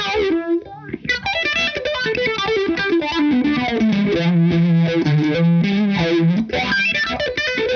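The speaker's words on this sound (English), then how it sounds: "So let's switch back to the small stone and go on the burn channel, and I'm going to put it onto the bridge pickup." Distorted electric guitar solo on the bridge pickup through an EHX Small Stone phaser, burn channel, with fast lead runs and sustained bends swirling under the phase sweep, loud and continuous with no talking.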